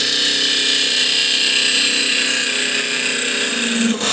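A curved scraper cuts into wood turning on a lathe, producing a loud, continuous grinding whir with a steady high rasp that holds evenly throughout and dips briefly near the end.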